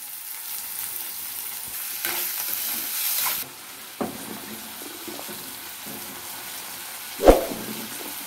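Soaked chana dal fries in a pan, making a steady hissing sizzle with occasional stirring taps and a sharp metallic knock near the end.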